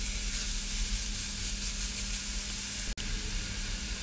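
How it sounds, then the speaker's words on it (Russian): Grated carrots fry in oil in a pan with a steady close sizzle and hiss, a low hum beneath, and a split-second dropout near the end before the crackling resumes. "На сковороду выливаем оставшееся масло и обжариваем в нем морковку до изменения"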